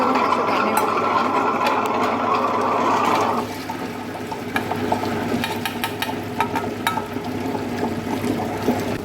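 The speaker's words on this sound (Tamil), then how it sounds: "இப்போ நம்ம கிரைண்டரில் வந்து இந்த உளுந்து போட்டுக்கலாம்" Wet grinder churning washed, soaked urad dal with water, a steady mechanical whir and sloshing, loud at first and then quieter after a few seconds, with scattered clicks and knocks running throughout.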